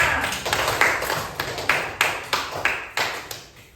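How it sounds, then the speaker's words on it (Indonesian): Students in an Indonesian classroom clap in a rhythmic, evenly spaced pattern of about a dozen sharp group claps, each decaying quickly, fairly close and fading slightly by the end. "tepuk tangan untuk kita semua"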